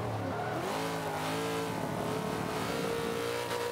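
A 1993 Ford Mustang Cobra engine revs hard in the Forza 5 racing game on a track, loud and continuous, with rising and falling pitch as it accelerates through gears.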